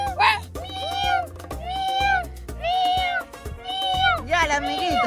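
Children imitating cats with repeated drawn-out meows, several voices in turn, close and loud, as part of a pretend game on a rainy day.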